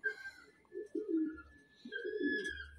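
Taiwanese racing pigeons coo nearby in two soft, throaty rolling phrases, with a faint steady whistle-like tone running underneath.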